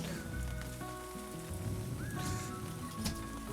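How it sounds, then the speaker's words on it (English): Steady rain falls outdoors in the Victorian High Country during a camp cook-up of boiled potatoes, a dense continuous patter with occasional louder drops and no talk. "now the rain's starting to stop as we boil the potatoes"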